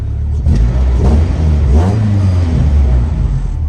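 A Honda B20 engine fitted with new plug-and-play coil packs, in an EF Si, revs up close and loud. Its low, steady engine note swells into a rising rev midway through, then settles back.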